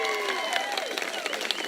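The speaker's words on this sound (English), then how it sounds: "Can we give them a round of applause?" Guests at a wedding ceremony clap for the newlyweds, a steady patter of many hands with scattered louder claps, partly mixed with voices and cheering.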